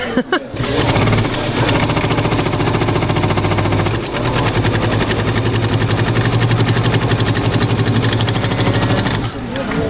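A Bernina sewing machine with a binding tool runs a straight stitch, a loud, fast, steady mechanical whir and needle chatter with a brief slowdown partway through before stopping near the end.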